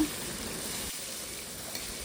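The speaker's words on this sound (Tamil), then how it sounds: "இதுக்கப்புறம் வெங்காயம் பூண்டு எடுத்து வச்சுருந்ததை எடுத்து அதில் போடுறாங்க" Onion and garlic fry in hot oil while kara kuzhambu is tempered, giving a steady, close hiss and crackle that holds evenly throughout with no talking.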